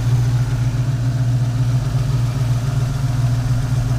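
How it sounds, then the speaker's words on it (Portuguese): A 1970 Dodge Challenger with an original 338-cubic-inch big block V8, fitted with electronic ignition, idles with a loud, deep, lumpy rumble, steady and close throughout with no talking. "É um motor Big Block de 338 polegadas cúbicas."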